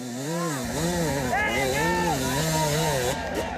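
A two-stroke enduro motorcycle climbs a hill at a hard scramble race, its engine revving up and down in rising and falling wails, close and loud throughout.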